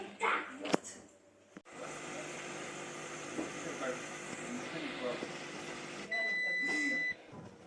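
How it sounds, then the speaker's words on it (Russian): After a stretch of low appliance hum from an old Bosch dishwasher that fills with water and hums but does not wash, a single steady electronic program-reset beep sounds for about a second, then fades back to quiet rumbling. "Сигнал окончания сброса программы мы услышали."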